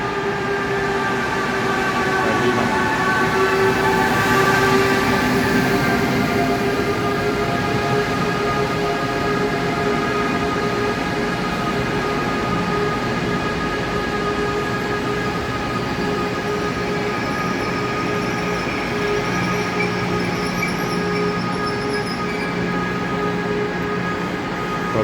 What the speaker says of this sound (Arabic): القطر وصل